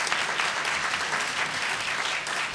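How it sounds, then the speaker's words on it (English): Audience applause for panelists at a Chicago mayoral candidate forum, a dense, steady wash of many hands clapping alone, sustained and even throughout. "Please give them a round of applause for their excellent questions."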